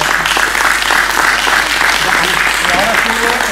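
Audience applause at an international congress, a dense, loud round of clapping from a seated crowd that continues steadily throughout.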